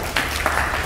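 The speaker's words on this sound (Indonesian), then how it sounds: "Jadi tepuk tangan buat Mas Mika Susanto." Brief applause from the audience at an art competition information session, a dense patter of many hands clapping at moderate loudness with a couple of sharper bursts.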